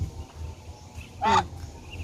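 A single short honking quack from a duck nearby, loud against quiet outdoor background noise.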